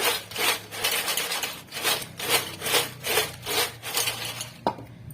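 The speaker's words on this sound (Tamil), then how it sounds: "நம்ம மிக்ஸ் பண்ணும்போது எவ்வளோ சவுண்டை வந்து நல்லா கிறிஸ்பியாக கேட்குதுன்ட்டு" Crispy fried potato chips are tossed in a bowl, making loud rhythmic scraping rustles in regular back-and-forth sweeps, close and alone.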